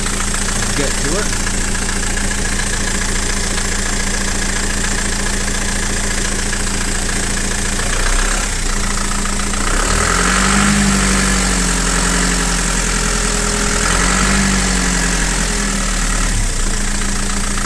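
Vauxhall Frontera 2.8 diesel engine idling after a cold start, a loud steady clattering rumble with a constant low drone, close by, with people talking over it partway through.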